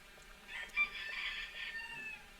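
Chickens clucking and crowing nearby, a faint, drawn-out fowl call over quiet background with a brief louder squawk near the start.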